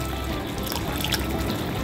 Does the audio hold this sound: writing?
no